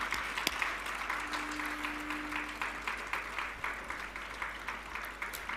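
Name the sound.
congregation applauding in praise of God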